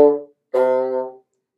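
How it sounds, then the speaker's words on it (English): A bassoon plays separated, tongued notes: two clear, sustained tones with a short silent gap between them, heard close and alone. "So to get separated articulations, it sounds like this."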